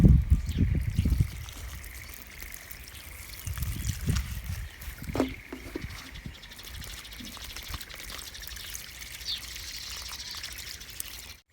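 Water trickling slowly from a watering can into soil in a grow bag of vegetable seedlings, a soft steady dribble that is briefly louder at the start, with a few faint knocks.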